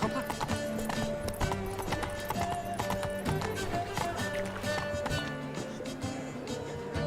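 Roach, a horse in The Witcher video game, trots with brisk rhythmic clip-clop hoofbeats that hold steady throughout, backed by music and game ambience.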